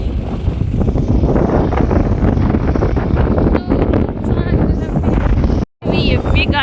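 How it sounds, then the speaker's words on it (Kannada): Heavy wind roars and buffets the microphone in a loud, continuous rumble that lasts almost the whole time, broken once by a short gap, while a voice talks underneath. "ಅಷ್ಟೊಂದು ಹೆವಿ ಗಾಳಿ."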